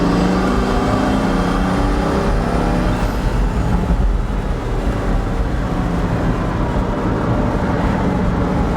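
A Pagani Huayra Roadster, a right-hand-drive example, cruises along a coastal road with a constant loud engine drone and rushing wind and road noise throughout.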